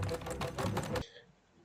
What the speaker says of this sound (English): Now let's start typing at the terminal.